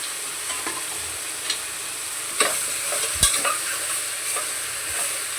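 Chicken pieces for a country-chicken curry sizzle and fry in a pan, a steady close hiss with occasional scrapes and clinks of a spoon stirring, no talk.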